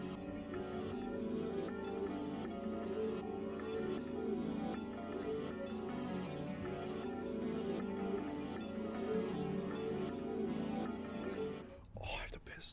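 Hard rock beat loop from the Black Hole sample kit, built in FL Studio: a dense, steady wall of distorted band sound plays continuously and loud, then breaks off abruptly near the end.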